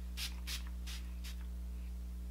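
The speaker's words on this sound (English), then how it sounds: "I really like that spray." Hangover 3-in-1 primer and setting spray misted from a bottle in four short, close bursts over a steady low hum.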